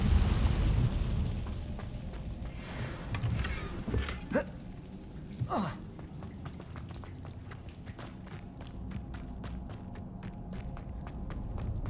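An Incendio fire spell cast in Hogwarts Legacy gives a couple of sharp whooshing bursts among footsteps and ambient game sound, followed by quieter repeated ticking steps.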